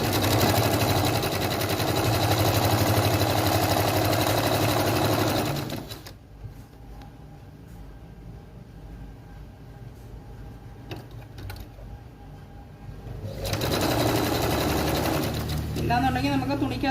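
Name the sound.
sewing machine stitching churidar pants fabric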